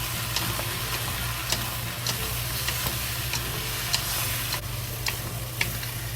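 Pork with pineapple stir-fries in thickening sauce over high heat, a continuous close sizzle broken by regular sharp clicks and scrapes of a spatula against the wok.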